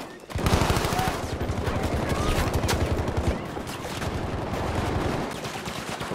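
Rapid bursts of gunfire from the video game Battlefield V crackle continuously, dense and fairly loud, with faint speech in the background.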